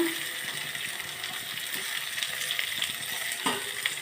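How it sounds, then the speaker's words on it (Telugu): Pasta cooking in a pan sizzles and fries steadily as salt and turmeric are stirred in, with a brief scrape of the spoon partway through. "ఉప్పు పసుపు ఇప్పుడు ఇవన్నీ ఇందులో వేసేస్తున్నా"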